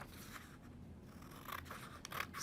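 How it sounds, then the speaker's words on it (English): Scissors snip through paper while a square is cut out during a craft activity, producing a few faint, close crisp cuts and rustles in a quiet room. "Now open up your paper and cut one of these squares out."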